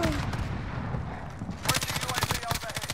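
Gunfire in a first-person shooter match, with loud, sharp shots and rapid bursts that grow denser partway through, close and continuous, with a voice briefly mixed in.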